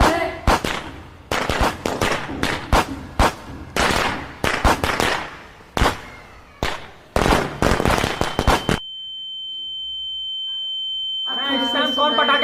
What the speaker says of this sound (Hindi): कौन पटाखे फोड़ता है बे?